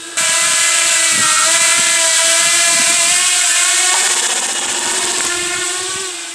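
Airsoft FPV drone in flight just after takeoff, its motors giving a loud, steady high-pitched whine that shifts pitch as the throttle changes, with no talk.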